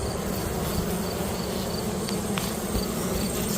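Honey bees clean the last honey off a nearly dry comb, making a continuous, dense, moderately loud buzzing hum with no voices.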